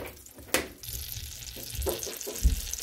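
Butter sizzling and frying in a hot pan on the stove, a steady crackling hiss with a few sharper pops and stirring sounds, close and fairly loud with no talking.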